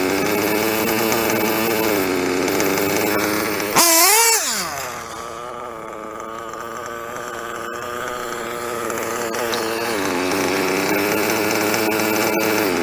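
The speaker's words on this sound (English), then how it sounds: "I'm going to turn down the idle just a little bit." Italian chainsaw engine idling after its idle is turned down, opening with a loud brief rev that drops into a steady, buzzing idle that holds and slightly swells near the end, no talking.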